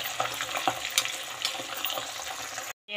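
Fish frying in hot oil in a home kitchen, a steady dense sizzle with small crackles and pops throughout, close and fairly loud, cutting out abruptly near the end.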